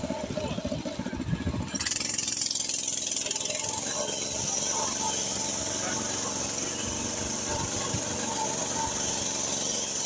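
A homemade trike's engine runs in first gear on a rural off-road track, a loud continuous rattling drone close to the microphone with a rush of hiss and wind joining after the opening seconds.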